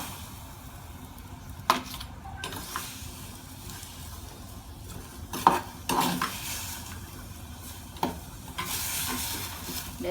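Carrot frying alongside green chilies in hot oil for a Sri Lankan pickle, a quiet hiss under repeated spoon scrapes and clinks against the pan, close and sparse, no talk.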